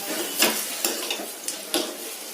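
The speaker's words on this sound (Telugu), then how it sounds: "కాకరకాయలు గోల్డెన్ బ్రౌన్ కలర్ వచ్చేంత వరకు ఫ్రై చేసుకోవాలి ఫ్రెండ్స్." Bitter gourd pieces frying in hot oil, a steady sizzle broken by a few sharp stirring clicks and scrapes of a utensil against the pan, close and alone with no voices.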